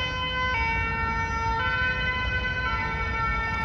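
Sapeurs-Pompiers ambulance siren wailing steadily and loudly nearby, a sustained electronic tone with a couple of pitch shifts over road traffic noise.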